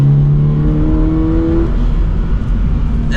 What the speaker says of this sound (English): It sounds like we have a small exhaust on this.